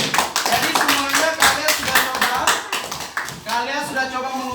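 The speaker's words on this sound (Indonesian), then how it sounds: "tepuk tangan dulu buat kelompok diameter" Classroom clapping for a student group, a burst of scattered hand claps mixed with overlapping voices and chatter throughout, fairly close and loud.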